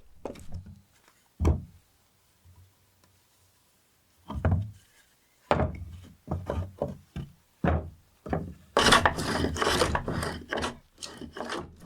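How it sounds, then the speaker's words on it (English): A hand plane works across a large oak live edge slab, giving sparse scraping strokes and knocks at first, then a quicker run of rasping passes near the end. "Now you can see how I'm working with my hand planner"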